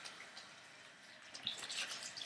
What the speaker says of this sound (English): I'm going to wash my hands because I was touching it